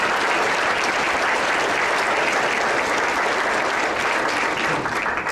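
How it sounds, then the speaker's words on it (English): Steady, dense applause from a large audience at a community volunteer-honoring ceremony, sustained and loud throughout with no break. "Let's give them a round of applause, please."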